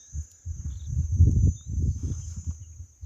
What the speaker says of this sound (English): the cicadas, have started to protest as the heat starts to climb past 30 degrees centigrade